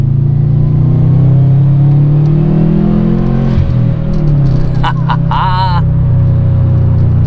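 A 2013 Subaru WRX hatchback turbo engine pulling hard toward 4,000 rpm, a loud, close cabin drone that dips briefly at a gear change and then holds, with a few short tonal chirps near the end.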